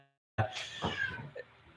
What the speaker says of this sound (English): You may want to get the cat and kick her out of the room or something.